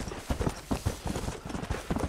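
Donkey hooves clopping in Red Dead Redemption, a steady run of close, evenly spaced clip-clop steps that carries on without a break.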